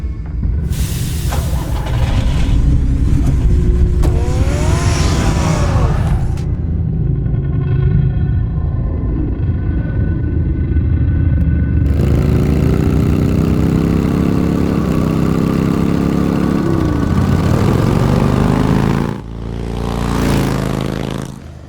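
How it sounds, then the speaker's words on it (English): Car engine from Batman: The Telltale Series game, idling and driving as a steady loud rumble with revving pitch shifts, brief mid-range surges and a short drop near the end, with no talk. "Get the car ready, Alfred."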